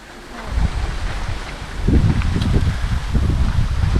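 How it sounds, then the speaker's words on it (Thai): Strong wind buffeting the microphone in low, rumbling gusts that swell and surge, loud and continuous with no talking. "โอ้ลมแรงเนาะ"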